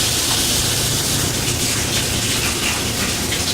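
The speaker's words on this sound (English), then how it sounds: "and let the water run inside there." Tap water runs steadily into a kitchen sink over sandy leeks, a constant close hiss and gush with faint knocking underneath, no talking.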